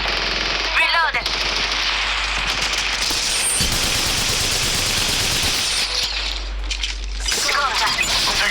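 Rapid automatic gunfire in the mobile video game Apex Legends Mobile, loud sustained bursts with brief gaps and crackling shots throughout.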